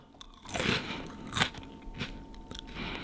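Several crisp crunchy bites of grilled dried pollack with crackling chews in between, close up, with no talking.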